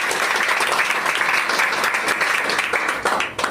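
Loud, sustained applause from a crowd at an anti-corruption committee gathering, many hands clapping together in a dense, even roar that dips briefly near the end.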